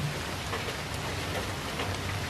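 Steady rain falling outdoors during a windy storm, a continuous dense hiss with a low rumbling wash underneath, loud and unbroken with no voices.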